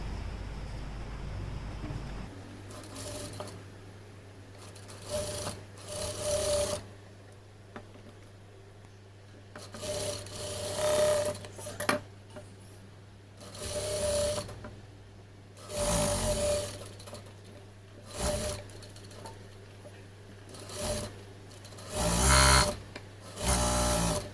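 A sewing machine stitches a blouse's lining and main cloth together, running in repeated loud bursts of whirring with short pauses between them, close up with no talking.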